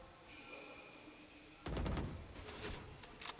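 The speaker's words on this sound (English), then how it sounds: "Couple shots coming across." Sharp gunshot bursts from a competitive Valorant-style esports match between Team Liquid and Team Secret, a loud crack followed by several rapid clustered shots over a low steady in-game hum.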